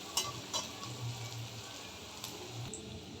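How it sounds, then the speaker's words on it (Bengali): Onions frying in oil in a pan, a steady low sizzle at close range with a few brief clinks and scrapes as they are stirred; no voices. "পেঁয়াজটা সবার আগে ভেজে নিচ্ছি ফোড়নটা দেওয়ার পরে।"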